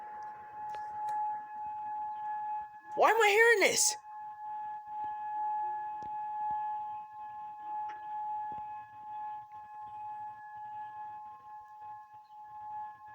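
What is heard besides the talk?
distant sirens wailing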